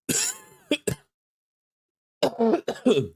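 A couple of close coughs and throat-clearing sounds, a short harsh burst, a pause, then a few more rough coughs.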